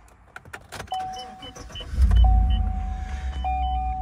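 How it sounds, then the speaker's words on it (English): A car approaches and rolls past at an off-highway vehicle area, its engine rumble swelling from faint to loud over a few seconds and holding close, with a steady whining tone running alongside. "10 seconds later, another car."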